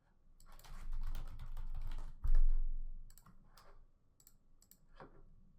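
Rapid typing on a computer keyboard while entering lettering for a sports-style design, with a dense run of clicks, one louder knock, then sparser keystrokes fading out.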